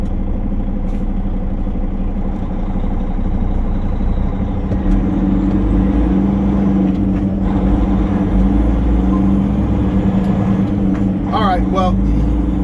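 An Averett truck idles and creeps in close by at night, a loud, steady low engine rumble with a rising tonal hum midway, heard from inside another truck's cab while someone talks.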